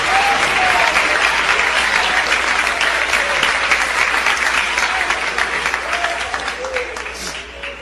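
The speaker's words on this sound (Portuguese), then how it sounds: "Podem glorificar o Senhor com as palmas." A Portuguese-speaking church congregation claps for Jesus in a loud, sustained round that holds steady and slowly tapers off over several seconds, with a few voices underneath.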